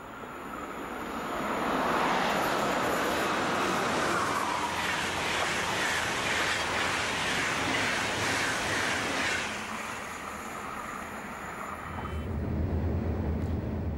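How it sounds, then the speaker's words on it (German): Intercity train bound for Hamburg rushing over the middle tracks of a three-track main line, a broad steady roar swelling in and fading out over several seconds, heard from trackside. "Ein Intercity Richtung Hamburg rauscht über die mittleren Gleise."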